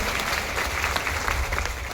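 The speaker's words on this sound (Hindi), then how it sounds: "ताली मर्दों वाली बजाइए सर" A crowd claps loudly and continuously in a dense, steady wash of applause that fills the whole short stretch.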